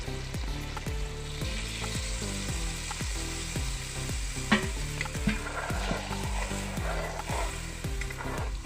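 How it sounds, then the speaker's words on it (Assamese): A pan of rohu fish curry with sour elephant apple crackles and sizzles loudly and steadily as water goes in, with a repeating rhythmic scraping of stirring and a few sharper clinks, no voices. "এতিয়া পানী অকণ ঢালি দিম ঢালি দিছোঁ"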